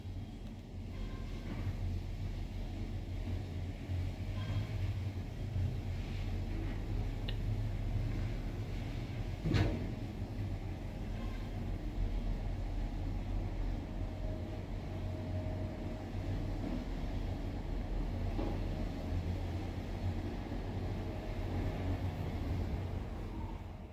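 An original machine drives an OTIS Modelinho traction passenger elevator, giving a steady low drone and rumble throughout with a single sharp click near the middle. No one speaks.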